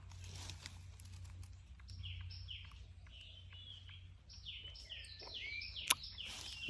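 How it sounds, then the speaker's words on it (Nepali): Several jungle birds sing sweetly, with overlapping chirps and whistled phrases at moderate distance over a low, steady background hum and no talking. "चरा मिठो करा"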